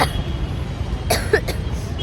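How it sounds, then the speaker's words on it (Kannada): A cough from someone out sightseeing on MG Road in Bengaluru, a couple of short bursts near the middle over steady street background noise. "ಕೋಲ್ಡ್ ಕಫ್ ಆಗ್ಯದ ಅದು ಬಿಟ್ರೆ ಏನಿಲ್ಲ"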